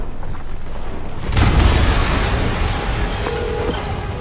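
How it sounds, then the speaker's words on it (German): A deep, rumbling boom from an explosion in the Spider-Man video game swells and rolls out, followed by a sustained roar that gradually fades. "eine Explosion!"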